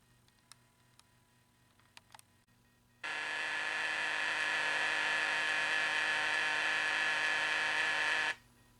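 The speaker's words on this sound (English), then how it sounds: "that is the sound of the cars coming out and grabbing" A steady broadband whooshing, buzzing roar from the CinemaTronics arcade game "Rip Off" during circuit board repair, the sound of cars coming out and grabbing, kicks in after a few quiet clicks and holds for about five seconds before cutting off abruptly.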